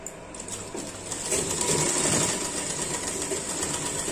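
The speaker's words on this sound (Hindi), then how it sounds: "और अब इस पे भी मैं एक साइड को ये सिलाई लगाऊंगी।" A sewing machine stitches a trouser seam, a steady mechanical whir that grows louder after the first second and runs continuously, close by and with no talking.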